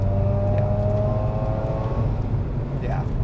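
A 2004 Mazda RX8 rotary engine revs loud and close from inside the car as it accelerates, a sustained rising whine with a steady mechanical drone beneath, with no talk over it.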